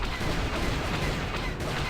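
Continuous turret gunfire from the Knights of the Old Republic turret minigame on the way to Yavin, a dense, steady rattle of shots at even loudness with no gaps and no talk.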